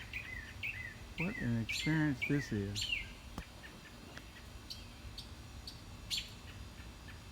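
A small bird chirps close to a sitting owl, repeated short bright calls and trills bunched near the start, then sparser scattered peeps, with someone speaking quietly partway through.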